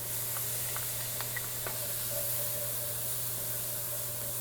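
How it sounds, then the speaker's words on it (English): Minced garlic and onions fry in a pan with a soft, continuous sizzling hiss, a few light clicks and stirring taps early on, then an even crackle that carries on at a low, steady level. "So now I'm gonna add our minced garlic to our onions."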